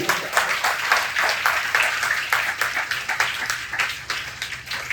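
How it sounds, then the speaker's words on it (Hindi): A school audience at an Independence Day celebration applauds steadily, many hands clapping together in a dense, continuous patter that holds throughout. "मैं चाहूंगा इसके लिए आप लोग एक बार जोरदार ताली बजा करके"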